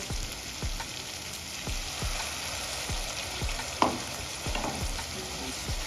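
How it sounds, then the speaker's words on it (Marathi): Masala paste for shev bhaji sizzles in hot oil while a spoon stirs and scrapes the pan in a steady rhythm of about two strokes per second, close and clear over constant frying hiss, with no talking. "आता तुम्ही बघू शकता तिथे आपली पेस्ट छान परतून झालेली आहे"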